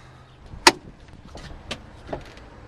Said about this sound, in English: look how wide this door opens